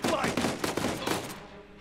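Rapid gunfire in the Uncharted 4 video game: a dense burst of sharp, close shots that rattles continuously for about a second, then tails off into fading echoes.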